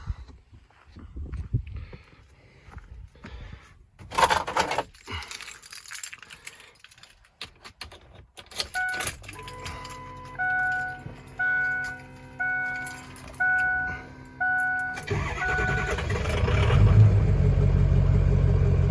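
An early 2003 Ford 6.0 diesel pickup, just repaired after oil rail and injector seal work, sits through a run of rhythmic dash chimes before its engine fires and settles into a loud, close, steady rumble.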